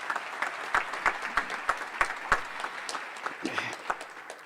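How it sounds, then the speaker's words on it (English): Audience applause at a medicine and health sciences graduation ceremony, a moderate round of clapping with distinct sharp individual claps standing out over a steady patter, heard at a distance in a large hall. "If you could give Jimmy just a round of applause"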